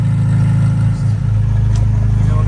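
A 1967 Datsun 1600 Roadster with a new clutch pulls away, its engine giving a steady low drone with a slight rise in revs, close and loud.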